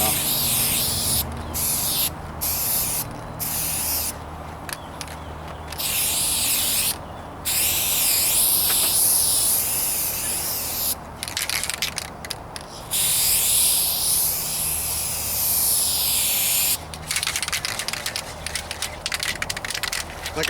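A Duplicolor aerosol rattle can lays a light first coat on the hood of a 1998 Toyota Corolla outdoors in a breeze: loud, steady spray hisses in several bursts, separated by short pauses.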